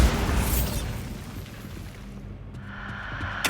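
Bombarda blasting spell going off in the video game Hogwarts Legacy: a loud burst at the start that decays into a rumbling tail, then a sharper crackle near the end, with no talk.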